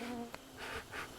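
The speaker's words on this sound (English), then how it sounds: "mosquitoes are heinous" Mosquitoes in the Arctic along the Dalton Highway give off a faint, steady high-pitched whine over about a second, close by and unaccompanied by talk.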